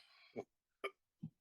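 Three short, soft burps spaced about half a second apart, close and quiet, following a brief bit of faint background noise, no talking.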